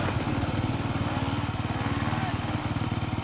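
A motorcycle engine revs in steady, constant acceleration, a loud continuous drone with a rising pitch that fills the whole moment, with no pause or cut in the throttle.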